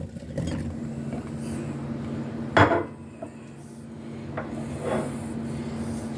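Coarsely chopped onions go into a clay roasting pot, a loud rustling clatter in the middle among softer scraping and knocks, with a low hum behind.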